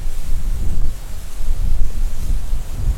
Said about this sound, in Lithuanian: žiauri vėjas čia traukia